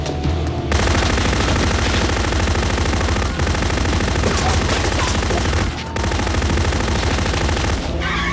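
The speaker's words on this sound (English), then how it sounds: "Nobody told you to shoot the guy, Frank." Rapid gunfire from a gangster hit, dense bursts of shots in a loud barrage that break off briefly twice before resuming, close and overwhelming.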